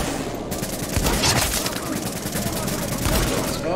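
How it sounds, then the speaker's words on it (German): Rapid gunfire erupts in The Division video game, dense overlapping shots running throughout at close range, with a voice talking over it. "Das war ein Kopfschuss."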